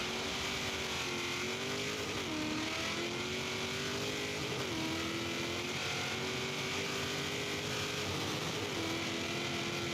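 Racing car engine in an on-road race in Forza Horizon 3, a steady loud drone with the engine note rising and dipping through gear changes over the whole stretch, with no talk.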